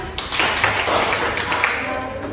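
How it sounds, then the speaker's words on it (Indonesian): An audience at a religious talk claps together, a steady dense patter of many hands lasting a couple of seconds, close and fairly loud with no speech over it. "Beri tepuk tangan"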